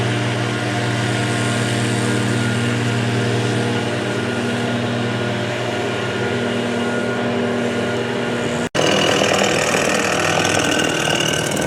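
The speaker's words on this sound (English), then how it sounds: "a team of like 8 guys with leaf blowers just walked by with this like leaf blower legion" A group of about eight leaf blowers drones loudly and continuously with a steady engine hum, breaks off for an instant, then resumes just as strongly.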